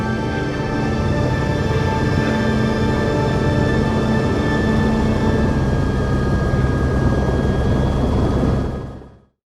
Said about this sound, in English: As we fly away in the helicopter